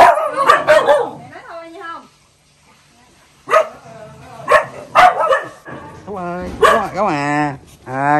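A dog barks and yips in short excited bursts, loud and close, alternating with whimpering whines, while a person talks over and between the barks.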